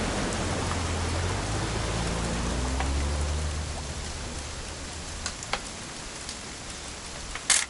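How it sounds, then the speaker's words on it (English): Steady rain in a video game hisses continuously over a low droning hum, with a few sharp drips and clicks near the end. "It's gonna rain the whole weekend,"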